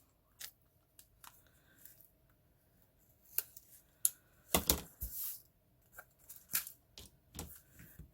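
Scissors snip off the corners of a chipboard photo frame with a handful of sharp, close cuts separated by quiet gaps and a few light handling rustles.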